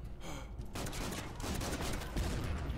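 Rapid, faint bursts of gunfire crackle in a dense volley from the game Killing Room, with no voices over it.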